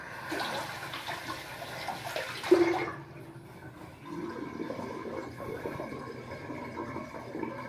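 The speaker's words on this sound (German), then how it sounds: "Wasser ist abgelassen." Water gurgles and drains away, a rushing swirl that ends abruptly, followed by quieter dripping and faint running water.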